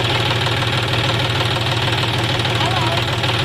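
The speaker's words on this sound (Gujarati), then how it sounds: "એક બીજું ટ્રેક્ટર જાય છે" A farm tractor's diesel engine runs steadily in a field, a loud, continuous knocking rumble close by with an even rhythmic chug for the whole stretch.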